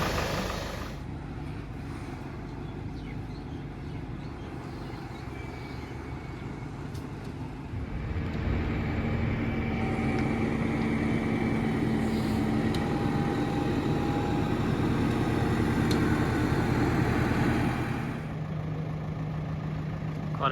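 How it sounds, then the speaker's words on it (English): A steady mechanical engine hum with a low idling drone, growing louder midway and holding, from a boat lift machine moving a boat at a boatyard in Fiji. "Quite a machine that lifts it up."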